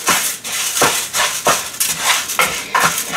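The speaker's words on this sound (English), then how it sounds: "I think I can go ahead and put the rice in here for right now and start browning the rice" Dry rice grains pour and rattle into a Ninja Combi cooking pot for browning, loud and close, with repeated clattering bursts of scraping and tapping against the pot.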